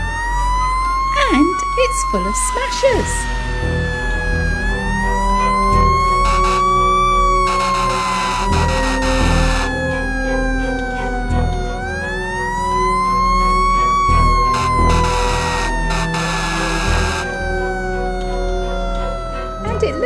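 A toy Sludge Bus siren wails in rising and falling sweeps over a toy's electronic sounds, with a person talking over it throughout.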